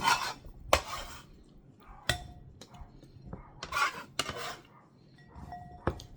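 Chopped vegetables scraped off a cutting board into a bowl with a bench scraper, a series of close, sharp scrapes and clatters with small knocks between them.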